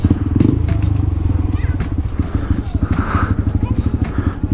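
A small motorcycle's engine chugs steadily close by as it rides in to park, its regular pulsing beat running throughout, with a few faint voices in the background.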